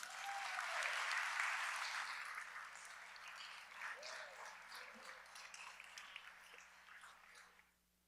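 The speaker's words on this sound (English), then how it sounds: "One more round of applause for all of our winners." An audience at a school trustees meeting applauds award winners, a broad wash of clapping that swells early, then thins and fades out toward the end.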